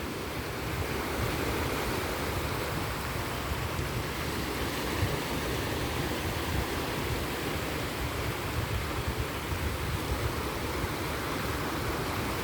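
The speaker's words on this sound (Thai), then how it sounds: "ฟัง เสียงคลื่นไปด้วยนะคะเพื่อนๆผ่อนคลายไปในตัวนะคะ" Evening waves roll onto a Hong Kong shore in a constant, dense wash of surf, steady and moderately loud with no pauses, under a breezy outdoor hiss.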